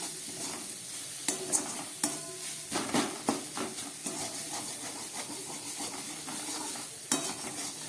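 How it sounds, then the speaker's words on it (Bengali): Spice masala with Kashmiri chilli powder frying on low gas, a steady close sizzle broken by clinks and scrapes of a spatula stirring against the pan, with no voices. "এই সব কিছু দিয়ে আমি আবার খানিকক্ষণ ভেজে নেব।"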